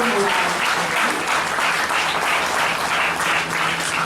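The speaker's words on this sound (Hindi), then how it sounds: "गंजी की गोल्डन जुबली के लिए सब जोर से ताली बजाएंगे" Audience at an inauguration ceremony for a spiritual centre's park claps loudly and steadily for a golden jubilee, a dense, continuous burst of applause filling the room with no voices over it.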